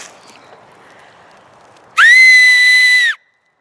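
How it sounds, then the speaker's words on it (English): A deep-toned handheld whistle is blown once in a single sustained blast of about a second, loud and close, after a quiet stretch of faint background noise. "Somebody's gonna think it's a rape whistle."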